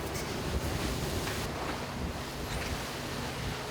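Choppy water rushes and splashes continuously around a pufferfish fishing boat out on open sea, a dense, loud wash mixed with gusting wind.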